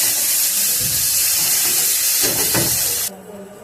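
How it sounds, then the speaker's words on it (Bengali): Ginger, chilli and garlic paste fries in a hot pan with a steady, loud hiss and sizzle, a few stirring scrapes near the end, then the sizzle drops away abruptly. "এবার সবকটা মশলা আমি একটু ভালো করে কষে নেব।"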